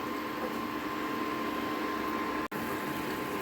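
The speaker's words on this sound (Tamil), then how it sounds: "தண்ணி கொதிச்சிருச்சு." Water boils in a pot for making ragi flour balls, giving a steady close rumble and hiss. There is a brief dropout near the end.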